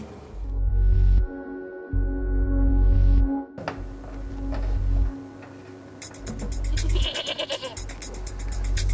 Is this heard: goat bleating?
yes